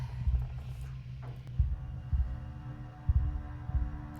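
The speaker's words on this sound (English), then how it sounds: "I can hear that heartbeat" A rhythmic heartbeat thumps low and close in pairs of beats at a steady pace, over a constant low hum with no talking.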